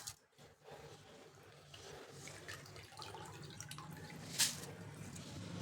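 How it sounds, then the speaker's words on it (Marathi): Water drips and trickles from soaked finger millet (nachni) draining in a strainer, a soft steady patter with a sharper drop near the end, close by with no talking. "यामधील पाणी निथळू द्यायचं आहे सगळं"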